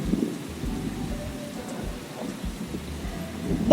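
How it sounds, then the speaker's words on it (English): Steady rain shower with rolling thunder, a continuous low rumble and patter filling the scene at moderate level, with no voices. "Suddenly, it starts to rain."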